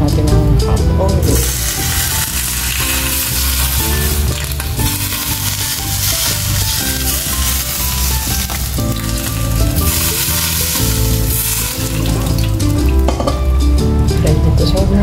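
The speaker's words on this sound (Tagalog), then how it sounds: "Lagyan natin ng hot oil." Hot oil poured over cooked food sizzles loudly and steadily for the whole stretch, a dense crackling hiss with background music running underneath.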